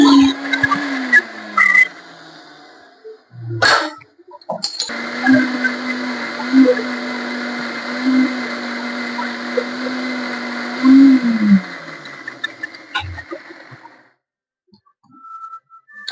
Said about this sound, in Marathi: मिक्सरला छान बारीक वाटण वाटून घेतला